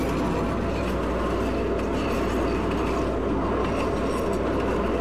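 A CTA Series 5000 Red Line train in the Roblox game runs steadily, a continuous low rumble with faint rail clatter, with no talk over it.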